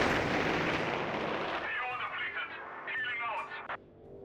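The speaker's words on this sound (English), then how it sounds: "a strafing run called in there to protect his retreating unit" A strafing run in the Company of Heroes 3 strategy game, heard as a dense, roaring burst of rapid gunfire and explosions that fades out, with a commentator talking over it.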